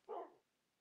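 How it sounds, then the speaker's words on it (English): A single short dog bark from the video game Minecraft, soft and clear against a quiet background. "Why are we running into dogs all of a sudden?"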